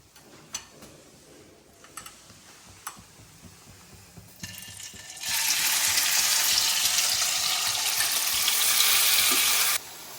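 Marinated kachki fish dropped into hot oil tempered with black cumin, first a few light taps and clinks, then a loud, steady sizzle that holds for about four seconds before cutting off.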